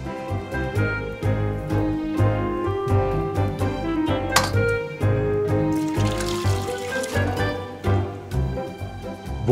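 Fish broth trickles and pours steadily through several layers of cheesecloth, with occasional clinks of a pot or utensil, close by and without speech.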